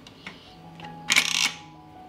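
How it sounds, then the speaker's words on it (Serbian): A pressure cooker lid is shut on a 6-litre pot holding jars and a litre of cold water: a brief metallic clatter and rattle of about half a second after a few faint clicks, close by. "Zatvorit ću ekspres lonac"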